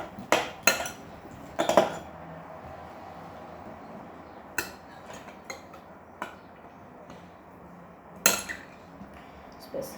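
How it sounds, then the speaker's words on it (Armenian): A spoon stirring oil in a mixing bowl, with sharp metallic clinks and scrapes against the bowl in irregular bursts separated by quieter stretches, close and without talk. "ձեթը արդեն ուղղակի գդալով ենք խառնում"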